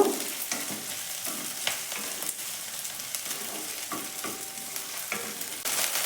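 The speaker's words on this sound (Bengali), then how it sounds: "এবারে আদা রসুন বাটাটা দিলাম এটাকেও এর সাথে খুব ভালো করে ভেজে নেব" Ginger garlic paste and chopped green chilli fry in a pan, a close sizzle with repeated scraping strokes of a spatula at an uneven rhythm, with no voices.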